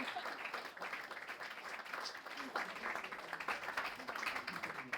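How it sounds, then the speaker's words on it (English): Faint, steady applause from the audience at a panel discussion on Britain's housing, a continuous patter heard from a distance. "Let's have a round of applause for the opening from panel"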